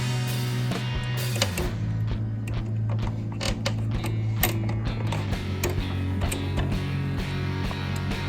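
A 1/2-inch (13 mm) wrench tightens a mounting bolt with a lock washer on a Smittybilt Gen2 X2O winch fitted to a Jeep Cherokee, giving steady ratcheting and clicking metal mechanism sounds with a low hum underneath, close up and without talk.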